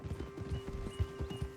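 Horse hooves clip-clop in a steady, fairly loud rhythm in Red Dead Redemption 2, several quick thuds close by over a faint tonal background hum, with no talking.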